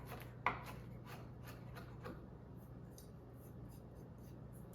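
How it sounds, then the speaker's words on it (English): A knife roughly chopping spinach on a board gives a few sharp cuts near the start, then soft scraping and rubbing continues quietly over a steady low hum. "So over here, I've started to give this a rough chop here."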